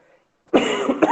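A person coughs, a harsh throaty burst that starts abruptly after a faint murmur and repeats with a second quick cough, close and loud.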